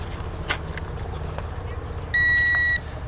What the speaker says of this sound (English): it gives you a beep to tell you that your calibration is successful